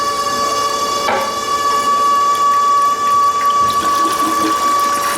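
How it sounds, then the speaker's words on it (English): Water runs steadily in a toilet's tank, a loud continuous hum with a sharp ringing tone, and a few faint knocks part-way through. "Water's making a weird sound."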